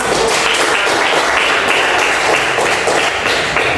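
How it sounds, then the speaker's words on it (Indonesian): Classroom applause at the end of a religious education lesson, a dense steady patter of many hands clapping together, loud and close throughout with no pauses. "Tepuk tangan."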